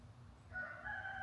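A rooster crows once, faint and some distance away, on a chilly sunny morning over a low steady background hum.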